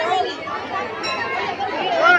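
Dense crowd chatter fills the Khatu Shyam temple, a steady wash of many overlapping voices with no single speaker standing out, holding at a constant level throughout.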